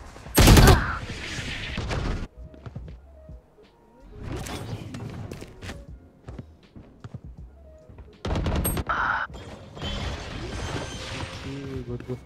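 Bursts of gunfire in the tactical shooter Valorant during a diamond-rank match: a loud close volley at the start, then scattered shots and a second heavy burst later, with ability and impact sounds between and no speech.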